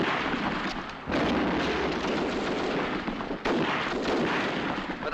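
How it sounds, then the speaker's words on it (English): Mortar fire in a wartime setting: two heavy booming blasts, each followed by a long rumbling roar, loud and close with no talk. "Mortar."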